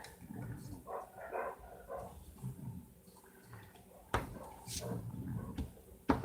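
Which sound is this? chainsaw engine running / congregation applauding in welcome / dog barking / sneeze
dog barking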